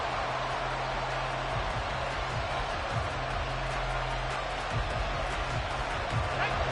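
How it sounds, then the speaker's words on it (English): A football stadium crowd roars steadily on third and long, a dense, continuous wall of cheering and noise with a constant low hum underneath and brief swells, no clear voices rising above it. "This crowd turning up the decibel level."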